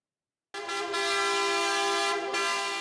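A car horn blasts loud and sustained on a steady tone during a street celebration of the ESTAC football club's Ligue 2 title in Troyes, starting abruptly after silence and holding for over two seconds.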